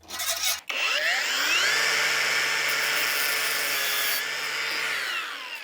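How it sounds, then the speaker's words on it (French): An angle grinder cuts through a rod in a garage car build: the whine rises as the disc spins up, then holds as a steady, loud grinding for several seconds before easing off. "je coupe à la disqueuse, c'est pas très précis"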